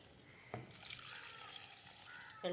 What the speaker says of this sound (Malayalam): നമുക്കിതിലേക്ക് ആവശ്യത്തിനുള്ള വെള്ളം ഒഴിച്ചു കൊടുക്കാം